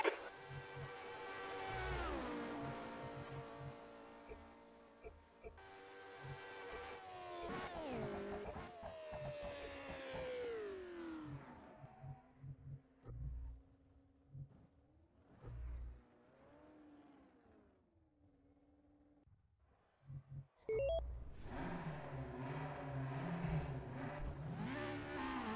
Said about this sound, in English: So I'm driving with the GSF2K at the moment around the Sachsenring.